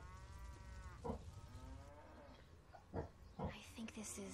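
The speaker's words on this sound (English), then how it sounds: "Is that a cow?" A cow lows in a farm level of the video game Lollipop Chainsaw, with a drawn-out moo followed by shorter grunting calls, all moderately loud against a low background rumble.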